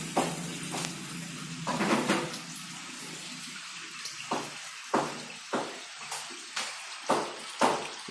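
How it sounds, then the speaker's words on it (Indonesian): Water drains out of a Sharp ES-F950P top-loading washing machine, a steady gushing rush in the opening seconds that thins into a series of separate sloshing splashes and gurgles recurring about every half second to second near the drum. "Oke, airnya udah keluar."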